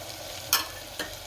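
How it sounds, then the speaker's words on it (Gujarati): Spices tipped into hot oil for a khichdi tempering, two short sharp sizzling bursts over a quiet, steady frying hiss. "હવે ધાણા જીરું નાખશું, આ ગરમ મસાલો,"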